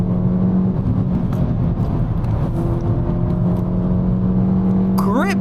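A stock 2012-era Ford Fiesta ST mk7 hatchback runs with a steady engine drone and tonal whine heard from inside the cabin, then revs up sharply at the end.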